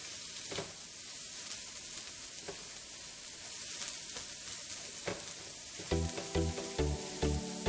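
Cumin powder and spices frying in oil for chicken tikka masala, a steady close sizzle with occasional sharp spatters, then rhythmic scraping taps of a spoon near the end; no voices.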